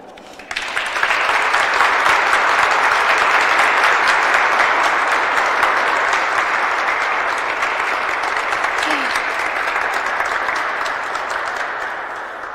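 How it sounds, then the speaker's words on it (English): A large audience at a disabilities funding announcement breaks into sustained, dense applause that starts abruptly, holds steady and loud for about ten seconds, then slowly thins toward the end. "Let's give her another round of applause."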